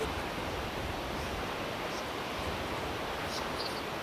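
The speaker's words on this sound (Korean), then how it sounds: "이 엘곤산을 더 유명하게 만든 것이 있었으니 바로 시피 폭포다." Sipi Falls, a three-tier waterfall on Mount Elgon, Uganda, gives a steady, dense roar of falling water that stays loud and unbroken throughout, with no voices.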